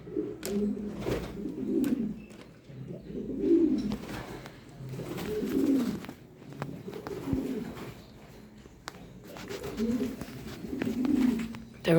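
Pigeons coo close by in a loft, with repeated soft, throaty calls in a steady rhythm every second or two, mixed with faint shuffling and light background noise.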